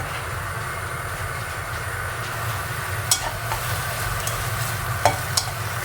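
Bacon for carbonara sautéing in a little oil until its fat renders, giving a steady, dense sizzle and hiss with a few sharp utensil clinks near the end, and no voices.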